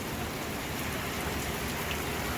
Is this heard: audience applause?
no